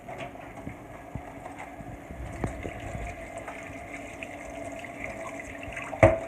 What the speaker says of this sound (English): first I am going to go ahead and rinse off my crabs.